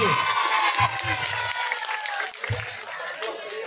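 Audience applause for a team at a santri quiz competition held to welcome the Islamic new year 1445 H: a steady, dense clatter of clapping that carries on for a few seconds in a hall, with a faint tonal ring above it.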